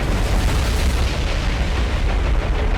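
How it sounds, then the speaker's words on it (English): Bombs exploding and intense anti-aircraft fire during a naval battle with bombers and torpedo attacks in the War on the Sea video game. A dense, continuous, loud rumble of blasts and flak with no pauses. "Second wave of bombs coming in. And anti-aircraft fire is intense."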